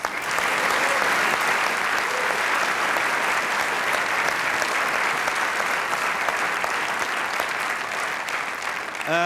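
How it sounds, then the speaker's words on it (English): Sustained applause from the audience at the BAFTA Games Awards, a thick even roar of clapping from a large hall crowd that holds steady throughout, with no talk on top. "A big round of applause for BAFTA, please."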